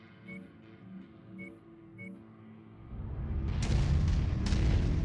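Mech footsteps in the MechWarrior 5 video game: three soft, evenly spaced thumps, then a louder, rumbling stretch of heavy impacts that builds toward the end.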